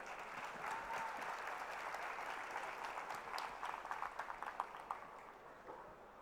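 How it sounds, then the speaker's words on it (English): An audience claps at a panel session on India's economic transformation at a literary festival, a dense, fairly distant round of applause that swells and then tapers over several seconds, with faint voices under it. "Let's give them another warm round of applause."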